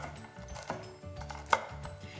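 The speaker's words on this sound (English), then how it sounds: "An easy way to chop up pecans is to use a knife that is serrated." A serrated knife chops pecans on a cutting board for a sweet potato casserole, giving a string of close, uneven knocks and crunches, with one sharper hit near the middle.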